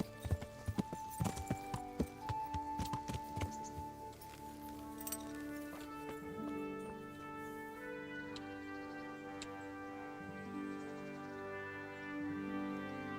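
Horse hooves clip-clop in Kingdom Come: Deliverance, a quick run of hoofbeats in the opening seconds that fades under sustained musical tones and faint ticking.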